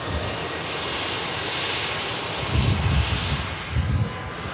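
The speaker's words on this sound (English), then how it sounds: "Lufthansa A321 on the way past, though, back to Munich." A Lufthansa Airbus A321 passes by, its engines giving a sustained rumbling jet roar with low surges swelling near the end, heard alone without talk.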